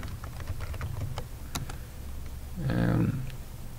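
Keys on a computer keyboard tap in a sparse, quiet run of separate clicks, followed near the end by a brief louder rustling burst, with no speech.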